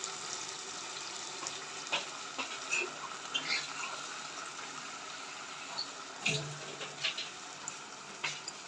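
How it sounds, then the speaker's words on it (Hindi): Water pours steadily into a hot cooking pot of daal mash with a continuous hissing sizzle, a few soft clinks and splashes scattered throughout. "अब हम इसके अंदर डालेंगे 1 कप पानी।"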